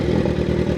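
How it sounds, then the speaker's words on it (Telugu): A Kawasaki Z900 motorcycle's exhaust roars loudly and close up in a brief rev, a thick, throbbing engine note with some rattling clatter. "ఇప్పుడు దీని ఎగ్జాస్ట్ నోట్ కూడా వినేయండి."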